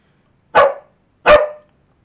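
A dog barks twice, loud and close, with a short pause between the two sharp barks and silence around them, indoors where someone is colouring with pencils.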